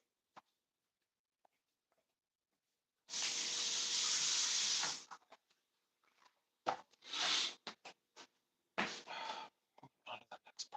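Water runs from a kitchen tap during handwashing while candied beef is being prepared, a loud steady two-second gush followed by several shorter splashing bursts as the flow starts and stops.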